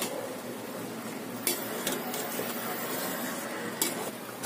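Bafla baati turned in a kadhai, with metal scrapes and a few clinks over a constant boiling, bubbling hiss; close, no talking.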